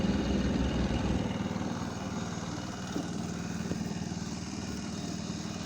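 A motorized bicycle's small engine idles steadily after the choke is taken off, a close, even buzzing putter that runs throughout without pause.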